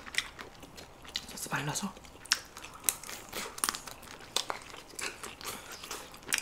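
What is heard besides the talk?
tearing and eating steamed seafood with octopus and lobster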